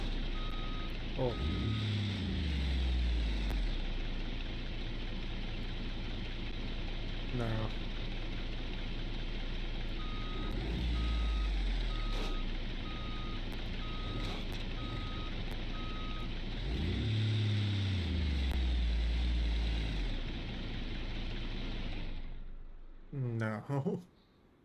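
Intermittent electronic reversing beeps from a loud truck in the BeamNG Drive video game, heard over a heavy engine drone that repeatedly revs up and down, with people talking.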